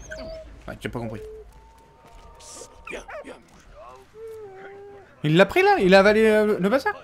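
In a World War I trench-life video game, a German dog gives short whimpers and whines, then a burst of yelping barks near the end, while someone talks in French over it.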